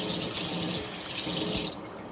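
Tap water runs steadily into a sink as someone washes their face, a continuous close rushing splash that thins out near the end, with no voices.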